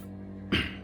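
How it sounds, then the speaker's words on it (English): A short burst of WD-40 aerosol spray hisses close by after a moment of low hum, loud at first and then tapering slightly. "So we're going to take some WD-40 and spray it on."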